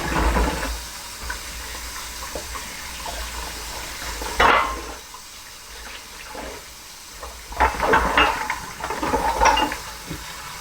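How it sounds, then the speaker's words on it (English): Tap water running into a kitchen sink while hands are washed after making sweet biscuits, a steady close rush broken by louder splashes and clatter as hands move under the stream, with no talking. "Let me wash my hands and pick that up."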